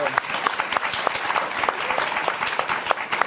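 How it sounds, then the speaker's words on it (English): Studio audience applause on a late-night political comedy talk show, steady dense clapping with individual claps standing out, filling the whole stretch with no talk over it. "clapping because Greg rhymes"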